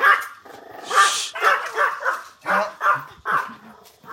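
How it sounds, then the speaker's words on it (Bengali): Several dogs on Koh Phangan island in Thailand bark close by in quick, loud, overlapping bursts, with some yips and a rough growling edge. "ভাবছিলাম কুকুরগুলো আমাকে ওয়েলকাম করতেছে, এমন ভয় দেখাইছে।"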